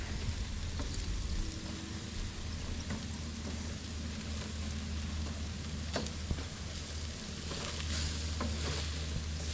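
Pork chops, corn, squash and zucchini sizzle steadily on a hot cooking surface, a continuous loud fry and crackle with a few sharper pops and no one talking.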